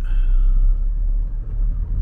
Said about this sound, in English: Wow, that plane that flew over.